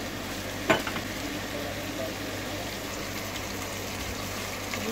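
Aloo gobi sabzi stirred slowly in a pan, a low steady sizzle running throughout with a single sharp scrape of the spoon near the start, no voices.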